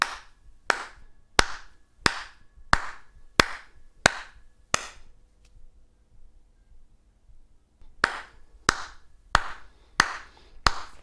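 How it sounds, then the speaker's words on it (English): A single pair of hands claps a steady, evenly spaced beat, close and crisp, then drops out for a few seconds of near silence before the same regular claps resume. "Now I'm going to clap at a certain point, I'm going to cut out, but I want you to carry on."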